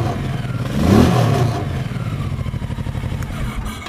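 A nearby 2006 Honda VTX 1100 Shadow Spirit motorcycle engine revs up in a brief surge, then settles back into a steady, throbbing idle.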